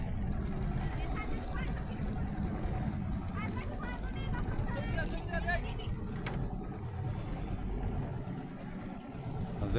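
A motorboat on the Jamuna River near Sirajganj runs with a steady low engine rumble and water noise, while people chatter and call out over it throughout.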